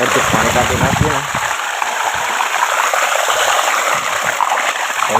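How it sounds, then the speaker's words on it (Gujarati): Water gushes steadily out of an opened drain plug at the bottom of a water tank on a farm, a loud continuous splashing rush with some low thumps at first. "ડાટો ખોલી નાખીને એટલે પાણી અડધું નીકળી જાય"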